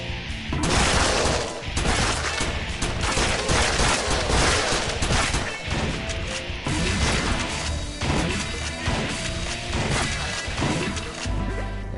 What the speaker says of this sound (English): Those fire bullets, they worked well from the last time.